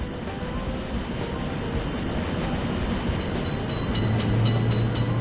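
A railroad crossing simulator game train rolls by with a constant, wash-like rumble, close and unbroken, growing slightly louder near the end with a low droning tone.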